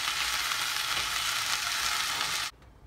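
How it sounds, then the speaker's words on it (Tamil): Loud, steady sizzling of okra stir-frying in a hot pan, continuous for a couple of seconds, then cutting off abruptly into near silence. "சேர்த்து ஒரு 3 நிமிஷத்துக்கு நல்லா வதக்கி விட்டுக்கலாம்."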